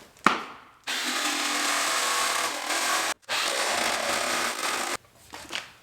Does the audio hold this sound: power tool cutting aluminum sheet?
yes